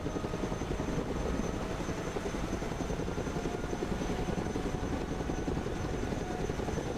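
Chinook helicopter in the video game Broken Arrow, a dense continuous rotor chop and engine roar that stays steady and loud throughout, with no talking.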